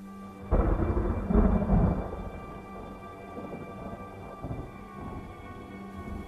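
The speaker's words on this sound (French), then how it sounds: "un claquement puissant, comme un coup de tonnerre, ébranle toute la maison." A powerful thunder-like crash sound effect in a French-language radio drama about a haunted house, a loud low rumbling burst that swells, hits again, then rolls away into a long dull reverberant tail with no talk.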